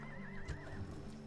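A horse whinnies in the Total War Rome Remastered strategy game, a short wavering neigh rising over a low musical drone, with a couple of soft thumps.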